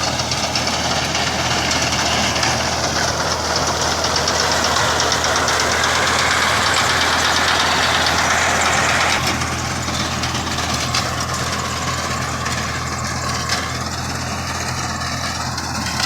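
Tractor engine running steadily while driving rounds in a field, a continuous low rumble with knocking, fairly loud and unbroken, with a slight shift in tone partway through.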